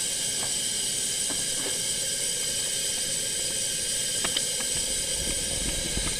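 A 1938 Primus 77 stove burner roars with a steady, loud hissing rush that holds evenly throughout, broken only by a few faint clicks and taps.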